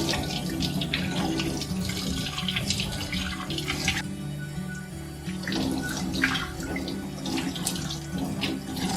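Running water poured over a baby boy's head in a hospital setting, a steady splashing flow with a short break near the middle before it resumes, close and continuous.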